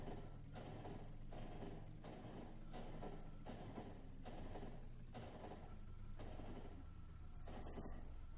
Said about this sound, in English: Aren't trains fun?